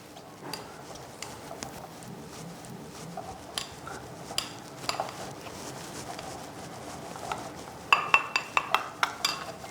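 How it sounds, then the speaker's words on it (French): Almond flour and baking powder are mixed for a chocolate pecan Christmas log batter. A utensil taps and scrapes a bowl at an irregular pace, ending in a quick run of sharp clinks. "Donc là, on a mélangé la levure et la poudre d'amande qui remplace la farine. Donc là, on mélange."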